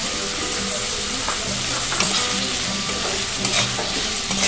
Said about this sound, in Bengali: পেঁয়াজটা দেওয়ার পর ভালো করে এটা ভেজে নেব।